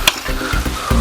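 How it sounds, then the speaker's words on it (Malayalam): Egg noodle meatballs fry in a hot pan, a steady sizzle with stirring scrapes and a couple of sharper spits and clatters near the start and end. "നന്നായിട്ട് ഫ്രൈ ചെയ്യാം നമുക്കത്."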